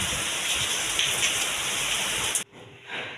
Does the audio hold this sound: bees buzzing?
no